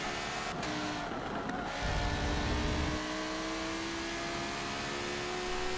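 Racing car engine in Forza Motorsport 7 at Silverstone, a steady high droning whine held at speed along a straight, with a brief low rumble partway through and no voices.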